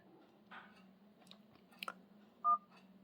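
A few short dial pad beeps from a Samsung Galaxy Watch Active 2, sparse and close in a quiet room, with one brighter tone standing out.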